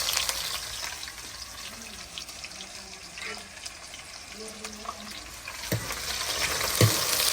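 Onions fry in very hot oil for a butt karahi, giving a continuous sizzle close by with occasional stirring knocks and faint voices in the background.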